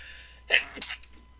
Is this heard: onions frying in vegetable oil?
no